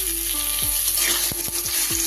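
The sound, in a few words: potatoes frying in leftover paneer oil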